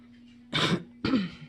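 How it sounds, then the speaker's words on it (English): Two short, rough coughs close to the mic, one after the other with a brief pause, against a faint steady hum. "it's just a regular cough"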